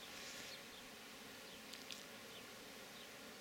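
Bees foraging among oilseed rape flowers in a spring garden in April give a faint, continuous buzzing that drifts slightly in level, with no voices.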